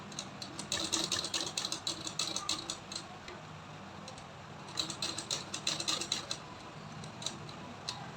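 Domestic sewing machine stitching kurti fabric, running in rapid ticking mechanical bursts that pause around the midpoint before resuming, heard close with no talk.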